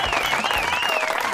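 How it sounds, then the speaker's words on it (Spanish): TV show audience applause, a dense burst of clapping heard close and loud, with a host's voice faintly over it. "Aplauso fuerte, vamos, por favor."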